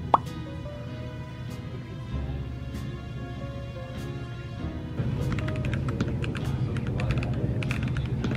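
Steady clicking and clacking of typing on a mechanical keyboard at an office desk, close up, a sparse stretch at first and then quicker, denser keystrokes.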